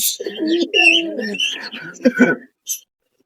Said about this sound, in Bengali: এরকম অসংখ্য কবুতর আমাদের কাছে পাবেন